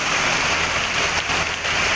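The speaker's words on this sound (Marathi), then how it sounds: "सकाळपासून असा पाऊस चालू आहे" Torrential monsoon rain in Kerala drums on surfaces in a continuous close roar, even and loud throughout with no speech.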